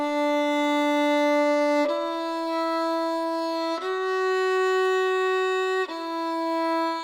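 A violin plays a slow sequence of single sustained notes, four in all, each bowed once for about two seconds with a clean change between them, close and alone.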